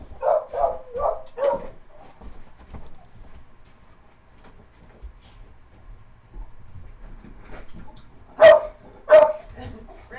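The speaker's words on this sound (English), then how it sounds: "Now you'll get to hear the hound dog." A hound dog barks indoors, a quick run of four or five barks at the start, then two louder, closer barks near the end, with a quiet room and faint talking in between.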